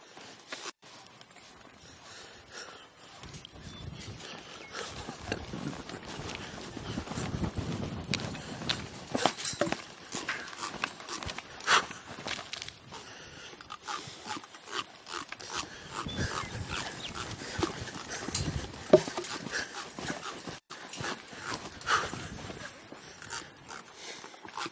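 A trained horse being worked on dirt by a rider, hooves clip-clopping in an uneven walking rhythm as it turns, with scuffs and shuffles over steady background noise.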